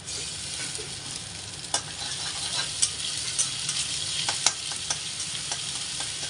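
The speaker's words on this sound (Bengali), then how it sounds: "এবারে দিয়ে দেব রসুন বাটা, একটু আদা আর জিরে বাটা" Onion fries with garlic, ginger and cumin paste while being stirred, giving a steady close sizzle with sharp scraping clicks from the utensil at intervals, without any talking.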